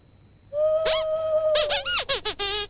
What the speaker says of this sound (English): Anybody knows an owl hoot, and that was an owl hoot